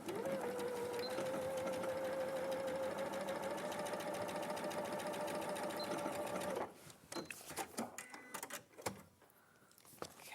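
A sewing machine stitches a short sleeve edge in a sewing studio, running steadily with a fast whirring hum for several seconds before stopping, followed by a few faint clicks and handling sounds.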